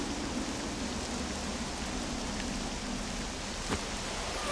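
Rain pours in Octopath Traveler 2 as a faint, even, continuous hiss, with no voices over it.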